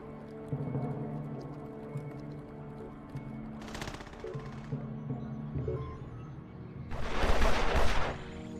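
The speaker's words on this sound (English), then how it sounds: "now they're shooting at stuff" Gunfire erupts in the video game Evil Genius as henchmen are shot down, with two clustered bursts of rapid shots over a low, continuous musical background.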